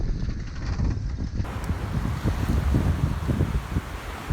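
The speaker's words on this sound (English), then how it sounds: "Suddenly the wind has just dropped from a steady 25 down to kind of 14, 15." Strong wind buffets a sailing boat at sea in the Caribbean, a steady full roar of gusts and microphone rumble with the hiss of water underneath, close and loud throughout.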